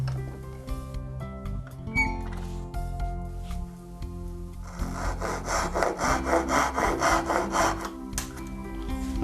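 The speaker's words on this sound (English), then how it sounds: "now a little bit of quiet time using a Japanese handsaw" A Japanese handsaw cuts through wood by hand: a few scattered scrapes at first, then a steady run of rhythmic back-and-forth rasping strokes, close and fairly loud, with no one talking.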